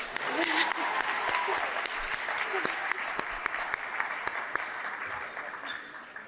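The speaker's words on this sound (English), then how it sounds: "Round of applause, please." A ballroom audience at a 50th anniversary gala dinner breaks into a steady round of applause, dense clapping with some sharper individual claps standing out, with voices mixed in throughout.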